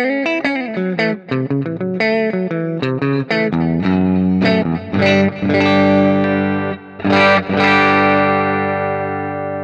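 Overdriven electric guitar chords and single notes from a single-coil guitar through a Shift Line Twin MkIIIS tube preamp ring out with a gritty, saturated tone and a wash of reverb trailing behind each strum.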